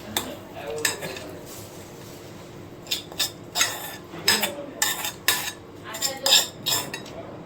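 A metal spoon scrapes and clinks against a pot in a series of uneven strokes, stirring a hot batata vada mixture, with soft background hiss between the knocks.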